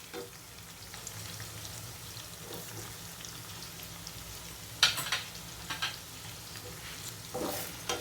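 Chopped onion fries in a pan for a lady finger (okra) curry, a continuous soft sizzle close by, broken by a few sharper scrapes and clinks of stirring.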